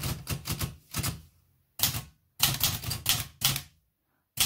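Typing on an unused vintage 1970 Olivetti Lettera 32 manual typewriter: close, crisp keystrikes in irregular hunt-and-peck bursts separated by short pauses.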